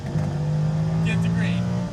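Lamborghini Huracan accelerating on a track with a steady, droning engine note that stays close and loud, while a person talks over it.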